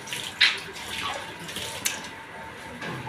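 Water splashes and pours in short, uneven bursts during bathroom wall tile fitting, fairly faint, with a couple of sharper splashes over a quiet background.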